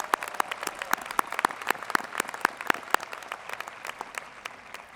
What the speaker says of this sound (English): Let's give all of these young people a great round of applause.